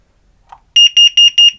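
A home carbon monoxide alarm going off in the middle of the night, four loud, piercing, evenly spaced electronic beeps sounding close and alone.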